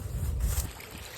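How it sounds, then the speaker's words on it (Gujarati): Water running at a well, a steady rushing wash with low rumble that swells briefly then thins out, close and continuous with wind-like hiss over the microphone. "તો પાણી તો ચાલુ જ છે ભાઈ"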